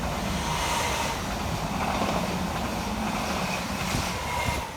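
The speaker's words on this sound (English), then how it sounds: "here comes a fast train" A fast train on the Great Eastern Main Line roars through Shenfield station, a steady loud broadband rush of wheels and air that stays strong throughout, with no pause or horn.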